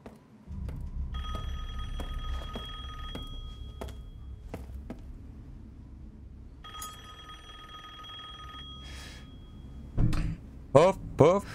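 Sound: telephone ringing in the video game Resident Evil Village

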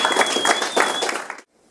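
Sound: audience applause for Michael Smolik

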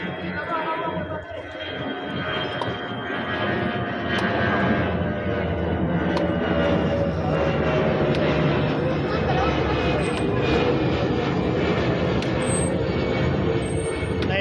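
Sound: drone flying overhead

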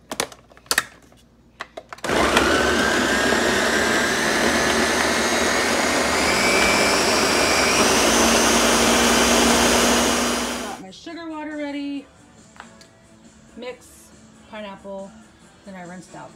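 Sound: Ninja blender grinding pineapples

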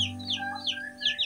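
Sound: hen clucking in answer to chicks

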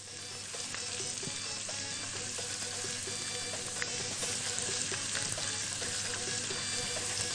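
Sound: garlic and coriander frying in oil

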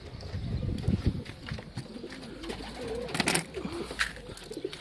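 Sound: pigeon cooing

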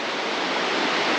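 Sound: water rushing over a spillway

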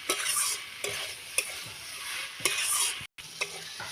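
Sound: sautéing curry with cumin paste

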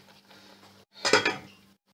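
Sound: pot and utensils while serving egg curry

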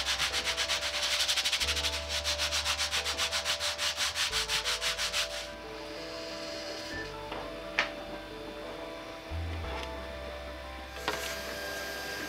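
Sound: sanding a 3D-printed plastic part

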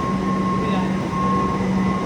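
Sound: metro train ride from New Garia to Ruby

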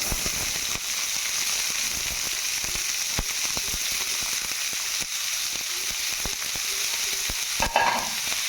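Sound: stirring chili and onions frying in a pan

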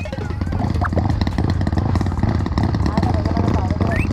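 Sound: motorcycle engine being started

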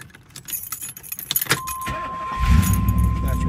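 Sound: IROC car engine starting with keys

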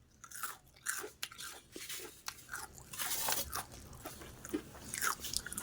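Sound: biting into a crispy fried sabudana vada

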